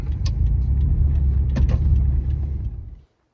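A rattly old Subaru drives along a road, producing a steady low engine and road rumble with a few light rattles and clicks on top. The sound holds evenly for about three seconds, then cuts off abruptly.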